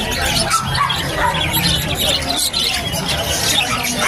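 Caged birds chirp, squawk and tweet continuously at the crowded Malabon pet market, mixed with loud chatter and a busy babble of voices from nearby people.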